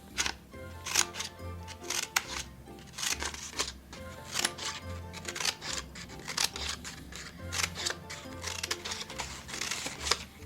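Scissors snip through paper for a craft hat in a series of quick, crisp cuts, irregular in rhythm and close by, over a faint background, with no speech.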